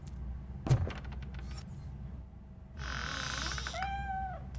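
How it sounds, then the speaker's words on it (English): A cat meows in the video game RoboCop: Rogue City, giving a drawn-out yowl followed by a shorter meow, fairly close, after a sharp thump and a few faint clicks. "The cat is fine."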